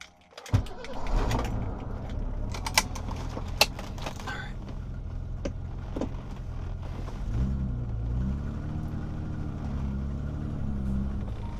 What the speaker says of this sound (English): I'm just going to go take the car on a drive